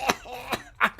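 A voice imitates a fit of coughing and choking: three sharp, harsh coughs spaced about a third of a second apart, close and fairly loud.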